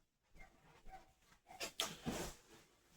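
A dog barks outside an open window, a few short, fairly distant yelps bunched together after a quiet start, with no one speaking.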